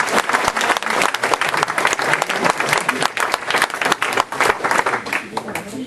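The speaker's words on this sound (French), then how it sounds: "Et je voudrais que vous l'applaudissiez." A crowd at a 2014 public meeting in Louveciennes applauds loudly and densely throughout, a steady close clatter of many hands with a voice speaking over it.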